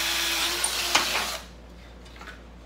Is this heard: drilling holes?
yes